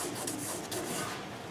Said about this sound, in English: as you sand, rock it back and forth so you maintain this curve